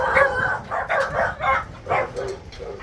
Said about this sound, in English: They're all barking at Zammy.